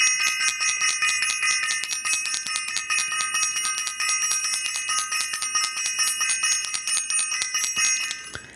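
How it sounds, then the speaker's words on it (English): A bell rung over and over in a steady, fast ringing pattern, bright and metallic with long sustained overtones, close and fairly loud, with no talking. "I want to ring the bell for Self-Invested and to all of Self-Invested families."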